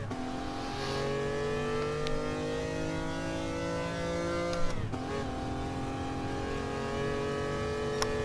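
A race car engine in a racing video game on the Eiger Nordwand course revs in a steady, high, buzzing drone. It dips briefly at a gear change midway, then climbs again, with no talk.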